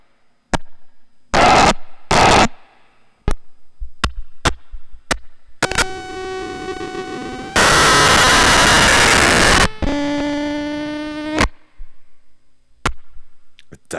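A Nibbler synthesizer running a Rungler patch spits chaotic, noisy sound: scattered sharp clicks and short static bursts, then buzzing harmonic drones, a loud sustained roar of white noise and a wavering tone, all close and harsh.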